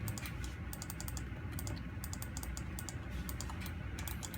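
Computer keyboard keys click quickly and faintly in steady clusters as dental bridge work is done in exocad design software.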